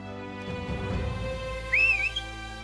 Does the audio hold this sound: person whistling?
yes